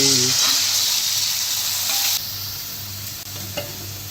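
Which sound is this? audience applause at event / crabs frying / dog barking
crabs frying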